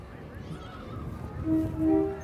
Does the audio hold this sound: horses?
yes